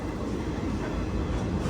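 Mussoorie Express train rolling along the track on approach to Delhi Junction, a continuous low rumble and rattle of wagons, steady and fairly close with no voices.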